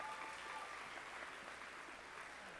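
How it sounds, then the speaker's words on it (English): Steady, dense applause from a graduation audience at a high school ceremony, continuous and fairly even throughout with no pauses. "Let's give her another round of applause."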